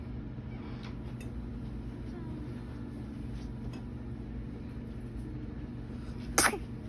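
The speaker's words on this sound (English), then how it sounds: "He's sneezing." A single short sneeze near the end, brief and fairly soft, rising out of a steady low hum of air conditioning indoors.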